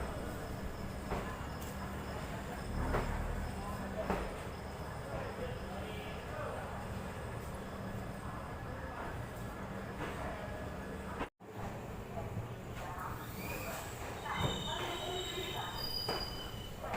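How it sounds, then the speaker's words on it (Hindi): The Sabarmati Express pulls out of Ajmer Junction with steady rumbling rail noise, metallic wheel squeals and occasional clicks, a continuous close-up din from on board with voices in the background. "अजमेर से हमारी ट्रेन का डिपार्चर हो चुका है"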